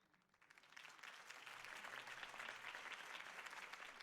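A crowd in Batman: The Telltale Series applauds at Harvey Dent's Gotham campaign event. The clapping swells in quickly, then holds as a full, even roar of many hands at a low, distant level.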